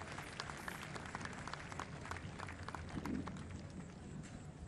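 An audience at the closing ceremony of the 2017 Jeux de la Francophonie applauds in a dense, steady wash of clapping that holds evenly throughout.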